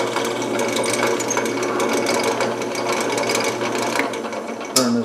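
A drill press bores holes for cabinet handles, its motor whirring steadily with a continuous mechanical hum and faint ratcheting texture throughout, ending in a short sharp knock as the spindle is released.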